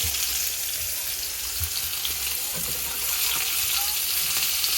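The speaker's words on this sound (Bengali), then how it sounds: "ফ্রাই হচ্ছে এটা দিয়ে হচ্ছে শিম আর আলু হবে" Green beans and potatoes fry in a pan, a steady broadband sizzle running the whole time with faint scraping knocks underneath; no one speaks.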